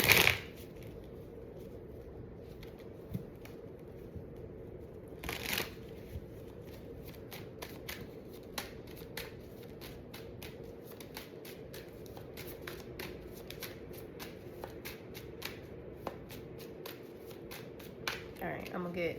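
Cards are shuffled by hand in a rapid run of crisp flicks and riffles, close and continuous, with a sharper slap near the start.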